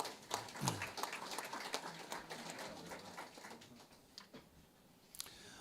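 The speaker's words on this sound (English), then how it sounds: "give them a round of applause, please." Scattered audience applause at a student signing day ceremony, loose individual claps strongest at the start and thinning out, moderately distant, with light background murmur.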